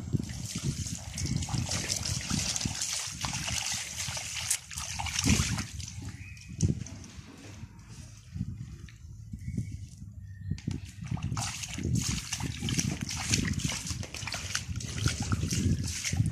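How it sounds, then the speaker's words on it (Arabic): Tap water runs and splashes steadily while raw wool is washed by hand, a continuous trickling and sloshing that stays loud almost throughout, thinning briefly in the middle before returning strongly. "صافي نسد الماء"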